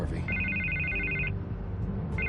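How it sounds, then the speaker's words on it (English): An electronic telephone in a Batman video game gives a long trilling ring, pauses, then starts ringing again, sitting fairly loud under a thick bed of background sound and low voices. "I can't get the phone to stop ringing."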